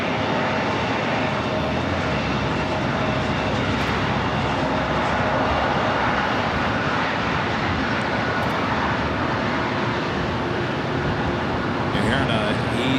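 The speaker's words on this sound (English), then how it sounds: "You're hearing a E-jet pulling into the gates of the Eagle's Nest" Embraer E-jet airliner taxiing to the gates at LAX, a steady loud jet engine roar with constant whine throughout, plus a few brief clanks near the end.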